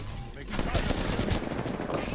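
Rapid gunfire in the Apex Legends video game, a dense run of overlapping shots that continues through the whole stretch at moderate level, with no speech over it.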